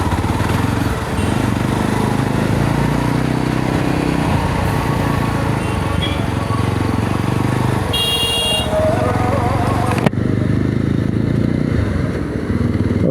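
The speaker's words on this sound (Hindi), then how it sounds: "बट एग्जॉस्ट काफ़ी क्रिस्टल क्लियर है" Yezdi Roadster 334cc motorcycle exhaust under way on a test ride, a steady loud engine drone with wind rush throughout, a brief high horn-like toot near the middle, and the sound dropping abruptly near the end.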